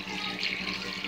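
Water poured steadily into a container for homemade almond milk, a continuous close splashing gush with no break and no talking.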